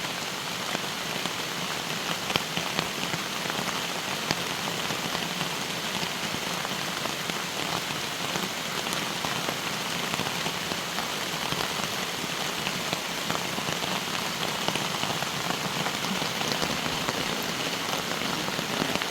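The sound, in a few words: rain falling on tent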